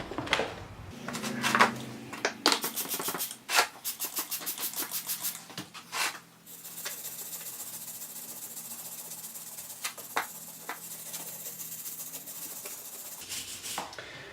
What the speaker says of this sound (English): These wire brushes work really nice for removing grime without removing paint.